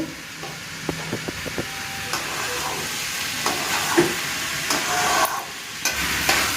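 Rice and lentils being fried in a pan for a spice-free Gobindobhog rice khichuri, a soft steady sizzle with repeated scraping stirs and light clinks of the spoon close by.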